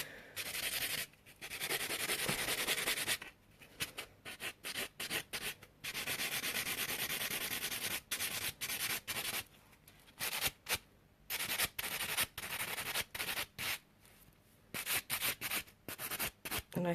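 A sculpted stiletto gel nail being buffed, with close, dry rubbing strokes in quick irregular bursts broken by short pauses and no talk.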